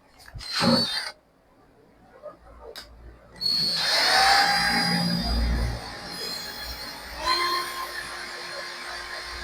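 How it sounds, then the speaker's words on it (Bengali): A star screw being worked into a 12V 150Ah battery casing to bore a hole, giving short scraping and grinding bursts early, then a longer steady rasping stretch with a faint whine, close and moderately loud. "তো আমরা একটা স্টার স্ক্রু দিয়ে একটু ফুটাটা করা যায় কিনা দেখে নিই।"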